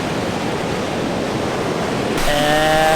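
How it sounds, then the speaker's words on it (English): Strong wind roars and waves crash steadily on the shore of Lake Superior, a loud broadband rush that never lets up, with a faint tonal whistle appearing near the end. "this is what being windbound on Superior sounds like"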